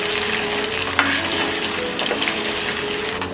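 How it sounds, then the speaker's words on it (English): Ginger garlic paste sautéing in a pan for mango pickle, a steady close sizzle and frying hiss throughout with a brief stir scrape near the start. "I'll saute this for about 5 minutes so that the flavors of the ginger garlic will be absorbed by the pickle"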